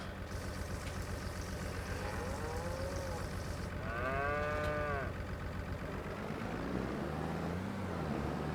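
Cattle in the Farming Simulator 25 video game moo in two long, drawn-out calls, one after the other, over a steady low ambient hum and no talk.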